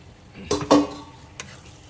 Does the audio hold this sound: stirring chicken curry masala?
yes